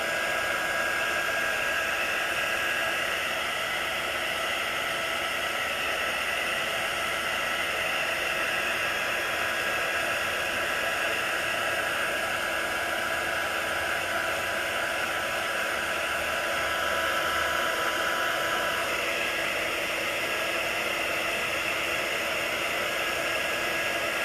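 A hair dryer runs continuously at close range throughout, a steady loud broadband whoosh with a slight change in tone near the end and no talking over it.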